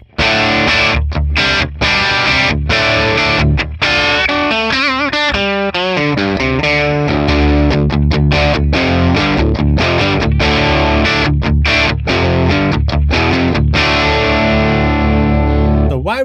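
Les Paul electric guitar through the Friedman Plex edge balanced amp model with reverb off, playing loud, crunchy distorted chords and riffs with sharp rhythmic stops and sustained ringing passages.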